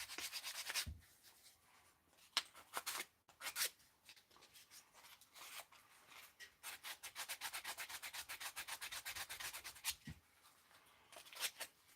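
A leather sheath is hand sanded with 400 grit sandpaper, giving quiet, close scratchy rubbing strokes in short bursts, then a run of quick rhythmic back-and-forth passes.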